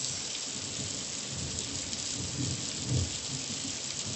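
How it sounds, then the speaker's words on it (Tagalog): Thunder rumbles low and heavy through steady rain during a rainstorm, swelling into a louder roll near the end over the constant hiss of falling drops. "Lakas ang kulog."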